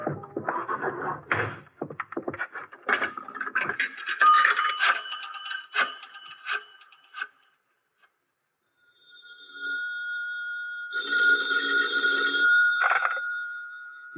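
An old-fashioned telephone bell rings in two bursts of metallic jangling after a stretch of clattering and a brief silence.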